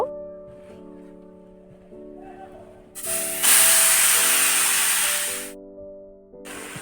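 Chicken roast, with a tomato marinade and its legs tied, goes into a hot wok with a sudden loud, sustained hiss that lasts a couple of seconds and then cuts off, over soft background music.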